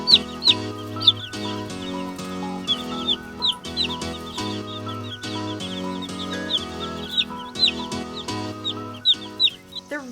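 A Plymouth Rock chick and nearby chickens cluck and peep repeatedly in short, bright bursts, close and clear with steady brooder background noise.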